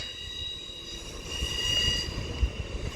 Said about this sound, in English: which is just arriving into platform 13 now, making a loud squeal indeed